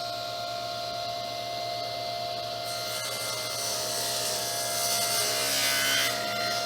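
A table saw blade spins with a steady high hum and whine while a sled jig pushes wood through it, a rough rasping cut swelling near the end, close and continuous with no talking.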